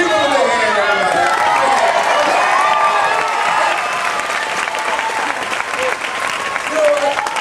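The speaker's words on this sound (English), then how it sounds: "give them a big hand, everybody" A large crowd applauds loudly and steadily, dense clapping with some cheering mixed in, sustained throughout without pause, at the final Who Wants To Be A Millionaire – Play It! show at Disney's Hollywood Studios.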